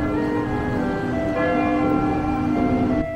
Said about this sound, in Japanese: あ、鐘が鳴ってる。